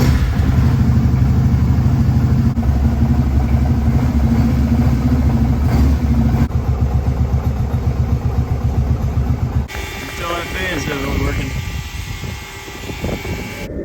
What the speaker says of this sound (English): the instructions say to crank it up and let it run a little bit to purge any air with the cap open